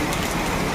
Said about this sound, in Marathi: आज खूप भयानक पाऊस पडत आहे